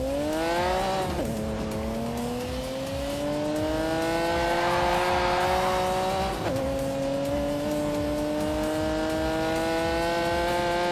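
A car's 5-litre V12 engine revs hard at full throttle, its pitch climbing steadily through two long pulls with a brief dip between, loud and close, with a faint edge of tire squeal.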